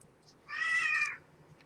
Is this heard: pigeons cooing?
no